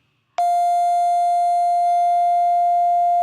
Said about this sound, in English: once I do that, then we'll get a waveform at 700 Hertz